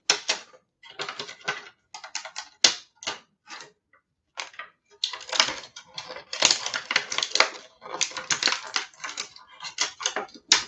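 Plastic bubble packaging on a Transformers figure being trimmed, heard as close, crisp clicking and crackling snips that come in irregular bursts with short pauses between them.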